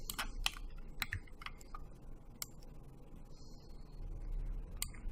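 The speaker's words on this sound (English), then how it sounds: "hit F8 on the keyboard" Computer keyboard keys pressed in scattered, crisp clicks, a few quick taps in small bursts then isolated strokes, close but quiet over a faint background hum, with no speech.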